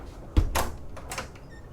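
A door aboard a 2018 Gulf Craft Majesty 125 superyacht opens near the bridge: a sharp thud and latch click followed by a brief swishing slide, then a second softer knock, close and moderately loud with no talking.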